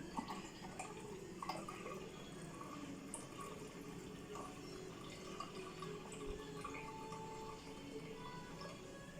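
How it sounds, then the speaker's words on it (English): Homemade almond milk drains through a strainer in a quiet, steady patter of drips and a thin trickle, soft and close with no talking. "as it's straining, you can hear all that milk going down"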